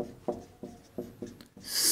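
Chalk or marker strokes on a board during a maths lesson, a series of short scratchy writing bursts about every third of a second, fairly close and alone, ending in a brighter rubbing swipe.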